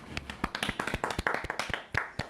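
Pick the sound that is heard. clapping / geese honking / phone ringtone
clapping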